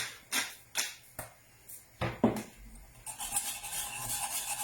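A spoon scrapes around a pan of béchamel sauce seasoned with cracked black pepper and salt. Several distinct stirring strokes come at an uneven rhythm, then give way to a continuous soft scraping and bubbling texture.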